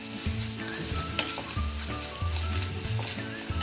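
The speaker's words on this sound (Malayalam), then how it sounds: "സീസണൽ ഇൻഗ്രീഡിയൻസ് മൂത്ത് വരുന്നുണ്ട്." Seasonings frying in a hot pan for a sprouted green gram stir-fry, a steady close sizzle with light stirring scrapes and a couple of sharp pops, no voices.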